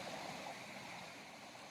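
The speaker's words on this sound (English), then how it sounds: "this is just a little bend in the river" A river in Colorado runs past a small bend in a steady, soft rushing wash with no other sounds.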